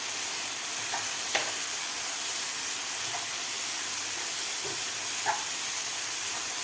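Green peas sautéing in a pan, a steady soft sizzle and hiss running continuously throughout, with a few faint clicks of a spoon stirring against the pan.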